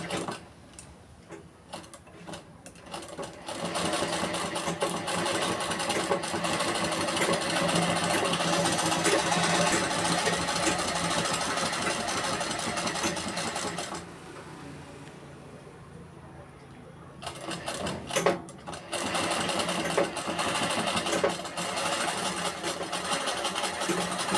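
A sewing machine stitches a shirt collar in long, steady runs of rapid mechanical ticking, close and fairly loud. It pauses briefly midway, then starts again, with soft talk heard faintly at times.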